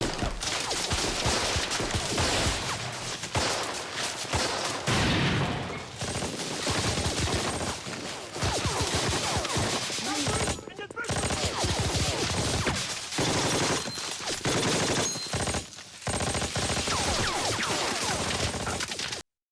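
Machine gun fire and dense battle gunfire from a Band of Brothers war episode: loud, rapid bursts and crackling volleys with explosive crashes. Brief gaps break up an otherwise continuous barrage, and no voices are heard.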